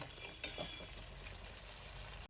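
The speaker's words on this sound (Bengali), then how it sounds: "এবার আমি একটু মশলাটা কষিয়ে তারপরে আমি এর মধ্যে গোবিন্দভোগের চালটা দেবো" Spice paste for muri ghonto fries in a pan as it is stirred, a steady close sizzle with a few light scrapes of the spoon near the start.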